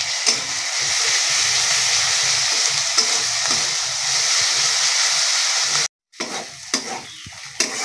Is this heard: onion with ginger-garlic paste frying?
yes